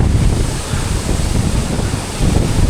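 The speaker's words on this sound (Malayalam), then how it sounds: "ആ വെള്ളം വീഴുന്നതിൻ്റെ ശക്തിയിലുണ്ടല്ലോ കാറ്റടിക്കാം." A waterfall at Sela Pass roars loudly and continuously, with strong gusts from the falling water buffeting the microphone.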